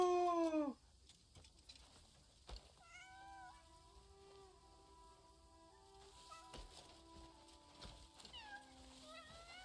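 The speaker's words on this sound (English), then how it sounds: "I want this kitten." A kitten meowing in the video game Crimson Desert, one clear high meow up front followed by quieter game ambience with soft tonal chirps and occasional faint clicks.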